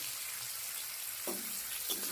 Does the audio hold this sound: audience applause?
no